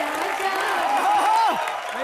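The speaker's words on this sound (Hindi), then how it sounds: "आप सबकी जोरदार तालियों के बीच स्वागत करना चाहूंगा मेरा भाई Harbhajan Singh and my beautiful भाभी गीता बसरा" Applause and cheering from a television studio audience welcoming guests on a comedy talk show. It is continuous and fairly loud, with a voice rising above the crowd.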